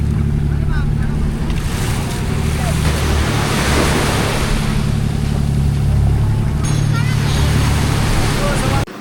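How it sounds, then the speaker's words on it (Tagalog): Strong ocean waves surge and wash continuously around a fishing boat off Capones Island, loud and close with heavy wind rumble and a low engine drone underneath, while voices talk over the sea. "Lakas ng alon pa."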